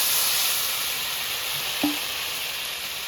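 Vegetable curry sizzling in a hot pan, a steady soft hiss and frying crackle throughout, fairly quiet and close, with a faint clink midway.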